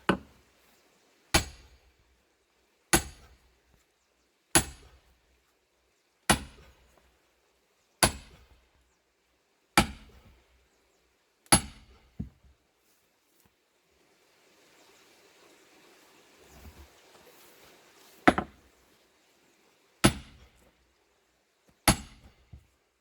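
A hammer strikes a huge firewood log about a metre across, with roughly a dozen loud, sharp, evenly spaced blows ringing out close by and a brief scrape of shuffling in a pause between them.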